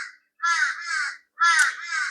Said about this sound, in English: I've got some crows up there, crowing to that